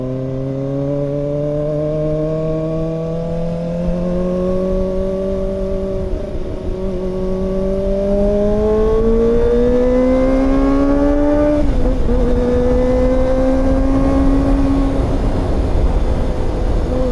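A Kawasaki ZX-25R motorcycle engine revs high and close on a short ride. Its shrill, rising whine climbs steadily through the gears and dips briefly at each shift before pulling up again, loud and continuous with no voices.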